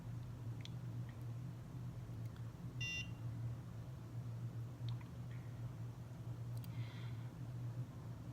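A NuFace microcurrent facial device, held under the eye, gives a few short, faint electronic beeps spaced several seconds apart over a steady low hum, with no talking.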